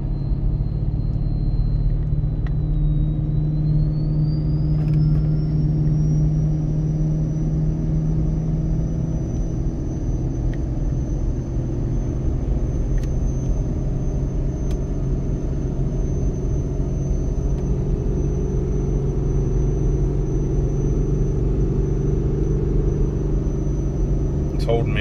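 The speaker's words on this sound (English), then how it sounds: "I usually drop it down here to second gear and we'll see if the exhaust brake can hold back." A Ford 6.7 Powerstroke diesel pickup with a compound turbo kit, in second gear with the exhaust brake engaged, holding back on a descent: a steady, loud low diesel drone with a high turbo whine throughout, under speech.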